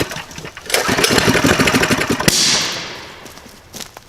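A 420 mini bike converted to a trike runs its small engine loudly and close by, a steady buzzing drone that swells and shifts in pitch, with a sharp pop partway through.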